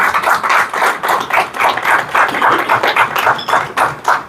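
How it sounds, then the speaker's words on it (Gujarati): An audience applauds a guest on a talk show, with steady, fairly loud clapping for a few seconds and no talk. "જોરદાર તાળીઓ વાગવી જોઈએ વિરલ મેડમ માટે"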